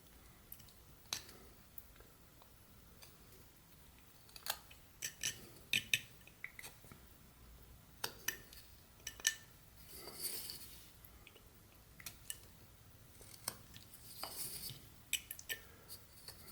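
A knife whittling a chunk of wood while carving a head, cutting under the lip: sharp, close clicks and short scraping cuts at an uneven pace, in quiet with no talk.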